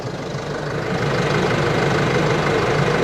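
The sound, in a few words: car engine idling with a knocking, thumping sound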